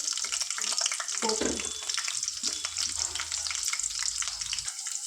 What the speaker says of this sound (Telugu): దీంట్లోనే ఒక ఫోర్ మిర్చి వేసుకుంటాను